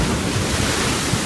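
Loud, close roar of ocean surf surging in from the sea on an Australian coast, a dense unbroken wash of water mixed with strong wind noise on the microphone.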